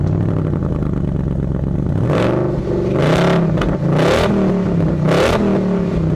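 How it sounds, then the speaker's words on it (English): Exhaust of a purple Mustang revving hard, with four sharp throttle blips rising over a rumbling idle, close and loud, and no voices. "Listen to this exhaust"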